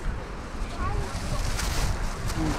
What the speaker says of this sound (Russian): Нифига ветер-то дует